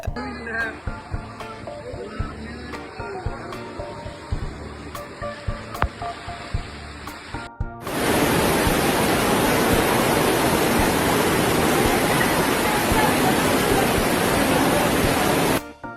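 Rushing floodwater at the Tiruvannamalai temple roars loud and steady through the second half, a dense continuous wash of water noise following a stretch of quieter background sound.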